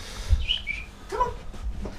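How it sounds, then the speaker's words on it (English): A dog gives a few high, thin whimpers followed by a short whining bark-like sound, close by indoors over a low rumbling background. "Hello, dog."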